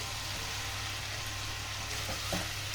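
Tomato and fried potato sautéing in a pan for a cucumber curry, giving a steady, close sizzle with a few soft stirring scrapes and no talk.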